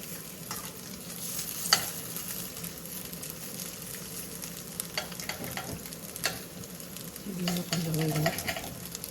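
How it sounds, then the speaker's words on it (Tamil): Soybean tofu frying in a pan, a steady crackling sizzle with a few sharp pops and occasional stirring scrapes, close and continuous with no talk. "அது நல்லா ஃப்ரை ஆகிடுச்சுன்னா ஈஸியாக இருக்கும் திருப்ப."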